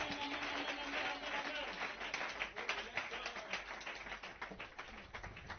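A church congregation claps and applauds at a French-language sermon, a steady crackle of many hands that carries across the whole stretch under loud surrounding voices.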